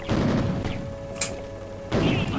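A bomb blast in the Clash Royale mobile game: bursts of game noise with a sharp hit near the middle and another loud burst toward the end, fairly quiet overall.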